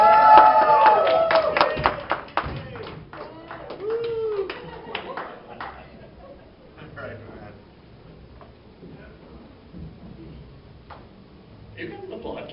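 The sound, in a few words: audience applause for a stand-up comedian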